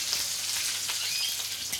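Hot oil sizzles and spits steadily in a pan as a duck leg flash fries, a crackling, hissing fry with small pops, close by and without speech.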